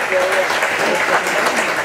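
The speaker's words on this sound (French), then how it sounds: "je souhaiterais qu'on puisse applaudir toutes celles et tous ceux qui font des choses pour les autres" Steady, dense clapping rises from an audience at a world dance festival, a short unbroken burst of applause with no clear talk over it.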